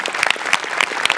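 A short, lively burst of audience clapping for a comedy skit on a stage show, with individual claps standing out sharply in a quick, uneven patter.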